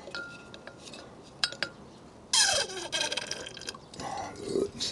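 Plastic Mix Miser fuel-mixing dispenser for two-stroke fuel acting up, giving sparse clicks and knocks, then a burst of liquid sloshing and gurgling with clattering plastic, close and moderately loud.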